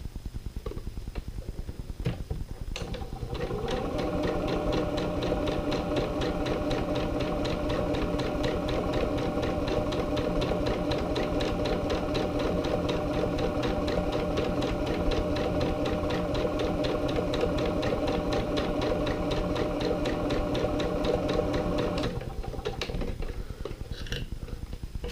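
A sewing machine runs in one long, steady stretch of stitching through a fabric bunting flag, a loud even mechanical whir and rapid tick that starts after a few seconds, holds for most of the time, then stops near the end.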